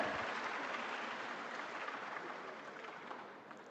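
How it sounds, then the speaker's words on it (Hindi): An audience at a financial assistance distribution programme for construction workers' children applauds to welcome Delhi Chief Minister Rekha Gupta, a dense, sustained wash of distant clapping that slowly fades. "जोरदार तालियों से स्वागत और अभिनंदन।"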